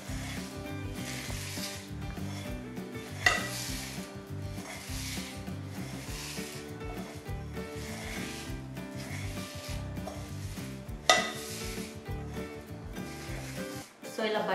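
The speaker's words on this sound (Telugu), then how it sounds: "బటర్ ఇందులో యాడ్ చేస్తూ మనం ఇలా కలుపుకోవాలి" Vermicelli being stirred and rubbed together with melted butter for a tawa kunafe, a steady scraping, rubbing texture with a faint sizzle and a couple of sharper knocks of the utensil, continuous throughout.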